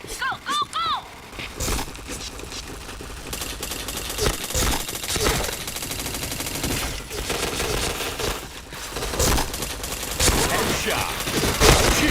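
Rapid bursts of automatic gunfire from the online shooter game Point Blank, loud and dense with repeated volleys and crashes, with a voice talking briefly over the opening.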